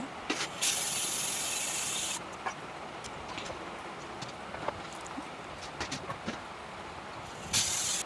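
A loud, steady hiss of escaping steam, like a pressure cooker venting, starts and stops abruptly, with faint clinks and kitchen clatter in between.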